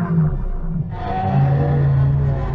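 Purrgil, the hyperspace whales from the Ahsoka series, give a deep melodic rumbling call, a sustained whale-like moan that swells and grows fuller partway through, with no talk over it.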